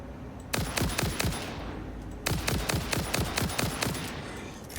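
Rapid bursts of automatic gunfire in the factory-building video game Satisfactory, two long fast-firing volleys with a short pause between, loud and close.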